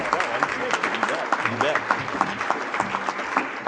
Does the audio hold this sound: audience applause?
yes